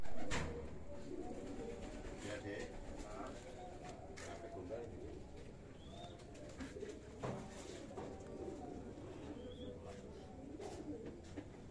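Homing pigeons in a loft coo softly and repeatedly at a moderate distance, a low murmuring chorus with occasional wing flaps and light knocks, while someone talks over them.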